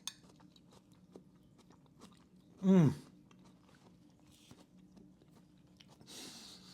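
A bite into a homemade brunch dish gives one short crunchy chomp, followed by quiet chewing and faint mouth sounds close up, with a soft rustle near the end.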